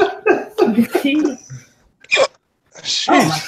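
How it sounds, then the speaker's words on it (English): A man with hiccups, short sharp throat catches scattered among bursts of close speech and breathy noises. "I got hiccups too, man. I've been hiccuping like I'm about to cough on my esophagus"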